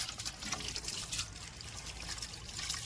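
Water trickles and pours over soil-covered tubers as they are washed. The flow is soft and continuous, with a light splashing texture close by.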